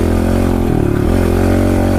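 Kawasaki KLX 110L pit bike engine, loud and close, holding a steady mid-pitched drone with a brief dip and rise in revs partway through.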